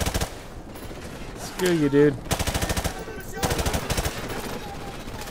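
Machine gun fire in Call of Duty 4 Modern Warfare Remastered: rapid loud bursts of automatic shots in several runs, mixed with other battle noise and a brief shout from a player.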